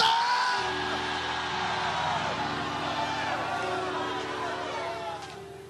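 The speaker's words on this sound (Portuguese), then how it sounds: "Grita, mas grita alto. Grita!" A church congregation answers a preacher's command with a loud burst of yelling and whooping, a sustained crowd roar that sets in abruptly and fades slightly toward the end.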